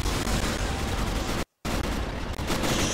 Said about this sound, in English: Zim, why are you not shooting?